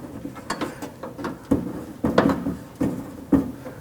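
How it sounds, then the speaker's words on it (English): Door window glass on a 1968-69 Camaro or Firebird being raised with its regulator, a close series of ratcheting clicks and mechanical clunks in uneven bursts. "We're going to raise our window."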